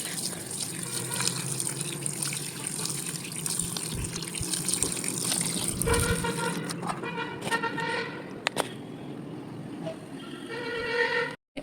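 Water pours steadily onto newly potted lotus and water lily plants as a continuous close splashing rush for most of the clip, breaking into uneven drips and trickles near the end.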